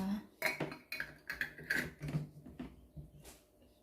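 A glass jar of hot homemade strawberry jam being capped, close clinks and taps of lid on glass with a few scraping turns, over brief quiet speech.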